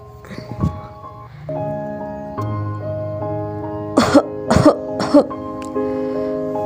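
A woman coughs in a short burst of repeated harsh coughs, close and loud, over a steady background of music with sustained tones.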